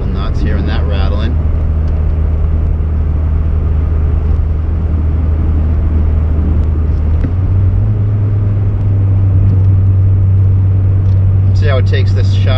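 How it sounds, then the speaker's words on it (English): A supercharged 1.8-litre 1990 VW Corrado G60 drives along with a steady engine drone and a rattling exhaust, the pitch climbing partway through as it pulls harder; someone talks over it. "that exhaust drives me a little nuts hearing that rattling"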